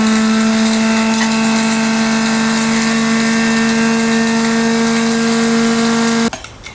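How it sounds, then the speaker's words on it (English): A spice grinder grinds toasted salt and Sichuan pepper into powder with a loud, steady, close motor whine that runs for about six seconds and then stops abruptly. "Use a spice grinder to grind it to become powder."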